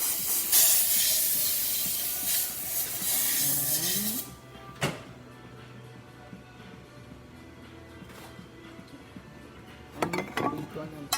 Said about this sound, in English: so just gonna test the steam out.